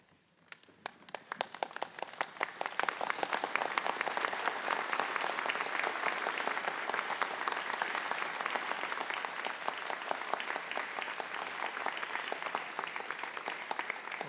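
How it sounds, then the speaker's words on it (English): A large commencement crowd at a medical college stands and applauds, the clapping building quickly from a few claps into dense, loud, sustained applause that holds steady for many seconds with no talk over it. "show your appreciation for this small subset that has helped you by standing up and giving them applause"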